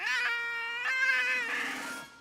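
A cat in the Tiny Bunny video game lets out a long, loud, sustained wail after its tail is stepped on, rising into a strained caterwaul that swells again before trailing off, with no talking.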